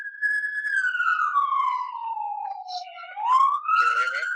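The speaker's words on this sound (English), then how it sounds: "there's a giant siren in the background" A loud wailing siren glides slowly downward then climbs again, sounding close and dominating the clip.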